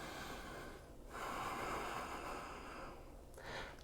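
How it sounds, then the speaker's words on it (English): Deep, audible breaths during a sweaty vinyasa yoga flow, a long slow inhale swelling then easing out, close to the microphone and with no talk over it. "Full breath in. Full breath out."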